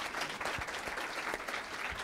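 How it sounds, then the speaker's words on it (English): An audience at a Minnesota gubernatorial debate in a hospital claps steadily, a dense patter of many hands sustained throughout at moderate loudness. "Let's give them a round of applause for being so willing to do this."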